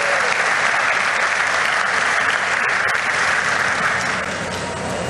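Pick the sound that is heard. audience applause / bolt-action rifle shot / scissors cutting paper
audience applause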